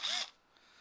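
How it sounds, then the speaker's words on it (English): A power drill fitted with a Phillips-head bit gives a short, loud high-pitched whirring burst that stops abruptly, followed by near silence. "You get a drill with a Phillips head."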